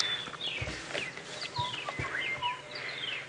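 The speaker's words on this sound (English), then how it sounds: "the loudest bird you will be hearing is a southern boo-boo" Southern boubou calling at dawn on a South African bush safari, repeated whistled and fluting phrases with sharp chirps from several birds, moderately close, over a quiet morning background.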